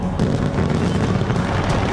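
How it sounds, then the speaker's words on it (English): Fireworks burst over the Sydney Harbour Bridge during a New Year's Eve display, heard as a steady, loud wash of booming detonations and crackle blending into one continuous roar. "that's the Sydney Harbor Bridge with its own set of fireworks"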